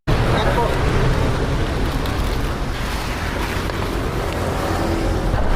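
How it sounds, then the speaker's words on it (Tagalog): Strong wind buffets the microphone beside a highway service road next to the NLEX, a loud continuous broadband roar with a low rumble of passing traffic and no clear pauses. "Medyo malakas yung hangin dito mga kuya."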